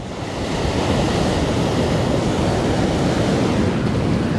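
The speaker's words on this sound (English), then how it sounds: "It's just getting some waves rock up on the stone ledge" Ocean waves surge onto a stone ledge at Coogee Beach in Sydney during an East Coast Low storm, a steady loud roar of churning surf with wind buffeting the microphone and no voices.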